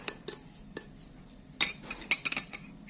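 Spoon clinking and scraping against a bowl while mixing a seasoning of sugar, Rodi soup powder, MSG and pepper for butter beef, a few light metallic taps spaced out, then a quicker cluster of clinks, close and fairly quiet.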